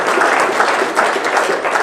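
An audience at a hotel product demo and opportunity meeting in Irvine applauds three people, a steady, full burst of clapping from a sizable crowd, close and even throughout.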